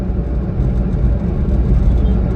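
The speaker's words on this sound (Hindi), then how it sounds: "80 की स्पीड पे चला रहा हूं मैं गाड़ी" Steady low rumble of road and engine noise inside a Hyundai Santro cruising at about 80 km/h, holding an even, continuous drone at a fairly loud level with no clear speech over it.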